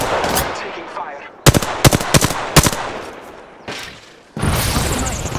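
Rapid automatic gunfire and sharp single shots ring out during an Apex Legends match, with bursts of evenly spaced cracks, a pause and then a dense loud volley, over background game noise.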